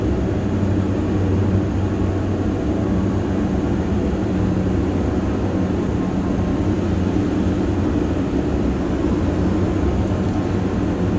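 A Diamond DA-42 twin-engine propeller airplane drones steadily in a flight simulator game, with a loud, continuous low engine hum and no change in rhythm, heard alone.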